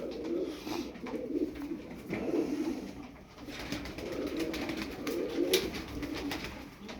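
Tumbler pigeons, a flock of about twelve birds, coo in soft repeated low bursts close by, rising and falling in a steady rhythm with no talking.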